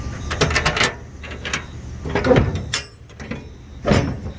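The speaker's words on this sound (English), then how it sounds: "So I open up one door." A hazmat shipping container door being opened, with a series of loud metallic clanks, latch rattles and scraping knocks close by and no talking.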